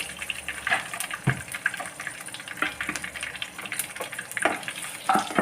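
Curry leaves frying crisp in hot oil in a pan for masi karuvadu thokku, a faint continuous crackling sizzle with scattered sharp pops and soft stirring, close and alone.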